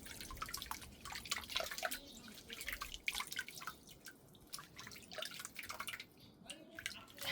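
Water drips and splashes softly as plant roots of a petunia are rinsed clean during repotting, a faint irregular trickling with small patters close by, without talk.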